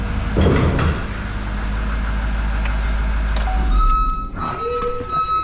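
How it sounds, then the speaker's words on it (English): A snow plow truck idles with a low rumble while a steady electronic beep tone sounds, briefly interrupted by a clunk before resuming. "this truck beeps every time"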